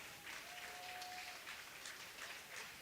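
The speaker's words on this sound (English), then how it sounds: "Smattering of applause behind him." Faint, distant smattering of applause from a small crowd at a college baseball game, a light, steady patter of clapping spread across a few seconds with no talk over it.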